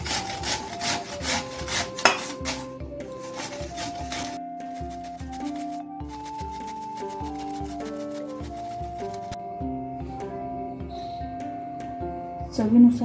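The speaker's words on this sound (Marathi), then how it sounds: "आता आपण गाजर किसून घेऊ।" Carrot is rubbed against a grater for beet cutlets, a quick run of rhythmic scraping strokes up close that fades out as tonal background music carries on alone.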